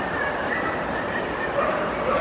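Excited high yips and barks come from a happy dog performing at a Crufts working trials display, steady and close amid loud arena crowd chatter.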